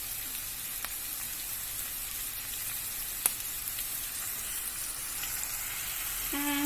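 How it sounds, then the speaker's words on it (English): Chilli chicken being stir-fried with soy sauce, heard as a steady, hissing sizzle throughout, with a couple of faint clicks of a utensil against the pan. "now stir fry"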